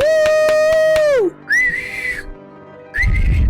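A few loud, clear whistles: a long held note sliding down, then two shorter high whistled tones with pauses between.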